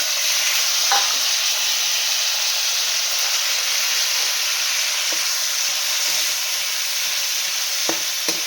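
Taro pieces fry with onion, tomato, green chili, cumin, mustard seeds and curry leaves in a pan, giving a steady, loud sizzling hiss throughout with occasional soft stirring clicks.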